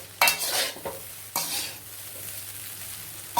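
Chicken fried rice is tossed and stirred in a pan over a full flame: a few sharp scrapes and clanks of the utensil break through a continuous low sizzle, with no talking.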